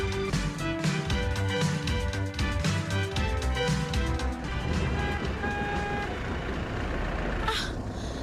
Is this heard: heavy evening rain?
no